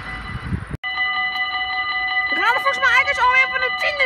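Train at a station in Sint Joost in July 2013, heard as a loud steady tonal whine that begins abruptly, then shifts into wavering, warbling tones as it carries on close by.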